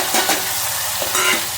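Cluster beans are stirred into sizzling hot oil seasoned with carom seeds, asafoetida and turmeric. A steady frying hiss runs under a couple of scraping stir strokes, with no talk.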